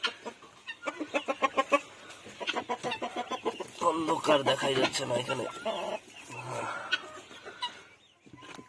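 A hen sitting near her eggs clucks in short rhythmic bursts close by, with a person talking over and between the calls.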